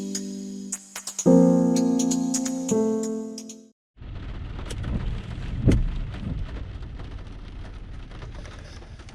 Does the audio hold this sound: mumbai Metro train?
no